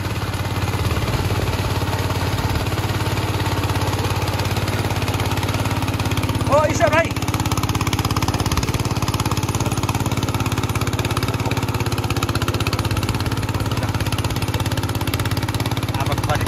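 A tractor engine chugs steadily and loudly nearby in a paddy field during rice transplanting at Palungtar, Gorkha, Nepal, a constant low mechanical drone throughout, with a brief voice calling out partway through.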